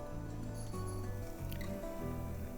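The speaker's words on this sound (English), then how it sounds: "Give it a pour, about a half cup, let it spread on its own." Pancake batter, about half a cup, poured into a hot pan, giving a soft close squishy drip and thick liquid flow that runs steadily for a couple of seconds without talk.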